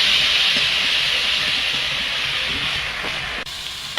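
Onion paste sizzles in hot oil in a pan while prawn malai curry is being cooked, giving a steady, loud, close hiss that barely changes for the whole stretch.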